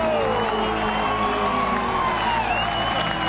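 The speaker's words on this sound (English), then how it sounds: "what a reception from the crowd" A large crowd at a motor race roars and cheers continuously at the finish as the winner takes the flag, with an announcer talking over the dense, loud din.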